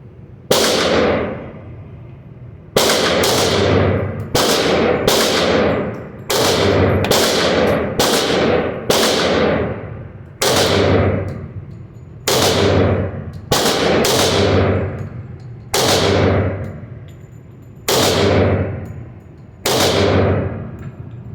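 A Girsan 1911 pistol fires about fourteen sharp, very loud shots at an indoor range, each ringing off in a long echoing tail, spaced irregularly roughly one to two seconds apart.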